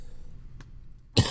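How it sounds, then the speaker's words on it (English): A single sharp cough bursts out near the end after a quiet stretch with a faint click, close and loud. "I got a cough"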